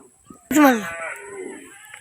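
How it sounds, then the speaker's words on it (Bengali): A single loud cow moo, drawn out and falling in pitch, close by, preceded by a brief soft noise, among many cows in a haor wetland. "এই দেখেন গাইস প্রচুর গরু"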